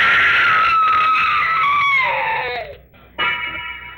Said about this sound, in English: I wish I never heard that scream.